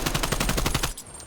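Rapid SMG fire in Call of Duty Cold War, one close, loud burst of about a dozen evenly spaced shots that stops abruptly and leaves a short ringing tail.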